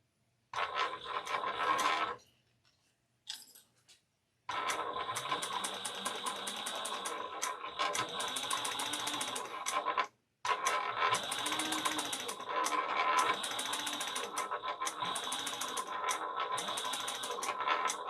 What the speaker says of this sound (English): we're going to sew them at 3/8 of an inch on both sides